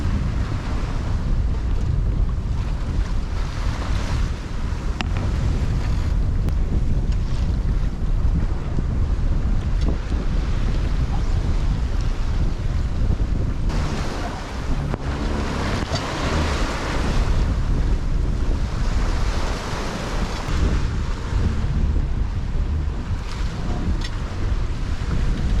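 Open-sea sailing in the Sea of Cortez with ocean waves washing steadily against the hull, about four seconds apart, while gusty wind buffets the microphone in a continuous, loud rush with no voices.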